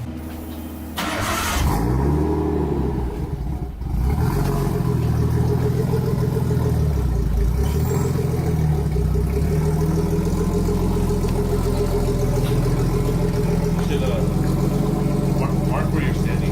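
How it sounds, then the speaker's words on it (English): A Nissan R32 Skyline idles loud and close through a straight-piped HKS Super Turbo exhaust with one big muffler and a 5-inch tip, starting up then settling into a deep, steady burble with slight revs, as people talk nearby. "this is my HKS Super Turbo exhaust"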